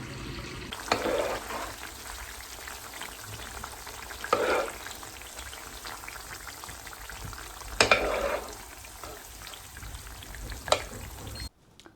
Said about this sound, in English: I'm going to strain them through a sieve into a bowl and save the olive oil for future use